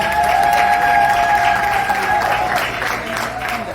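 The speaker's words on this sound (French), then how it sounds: "Est-ce que vous pouvez applaudir pour elle, s'il vous plaît?" Applause from an audience honouring a woman receiving a trophy, with dense steady clapping and a crowd murmur, plus a sustained tone running over the first half before the clapping thins slightly.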